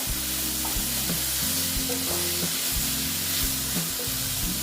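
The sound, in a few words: okra frying in gram flour batter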